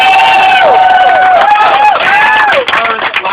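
Loud crowd noise at an outdoor Independence-season party, with cheering, shouting voices and some clapping blended together close by.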